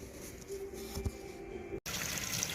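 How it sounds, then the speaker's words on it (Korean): Scrubbing a rusty Buschbeck wok with steel wool and ordinary dish soap at the kitchen sink, a steady running-water wash with continuous scraping and rinsing, one brief dropout near the end. "지금 철수세미하고 일반 퐁퐁으로 한번 세척 중입니다"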